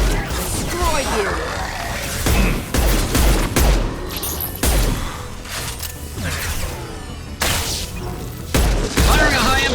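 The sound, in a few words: gunfire in the Mass Effect 2 video game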